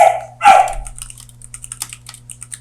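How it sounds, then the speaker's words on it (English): A dog barks twice in quick succession, close and loud, followed by steady keyboard typing with a low electrical hum underneath. "my dog is like saying something"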